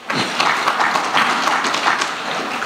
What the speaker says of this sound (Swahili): Naomba tupige makofi.